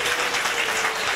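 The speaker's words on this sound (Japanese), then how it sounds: "大きな拍手ください。" Audience applause in a live jazz club after a tenor saxophonist is introduced, a dense, bright burst of many hands clapping close by, filling the moment without speech.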